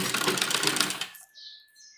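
A sewing machine stitching a net lehenga blouse runs in a fast, loud mechanical rattle for about a second, then stops abruptly, leaving faint high tones.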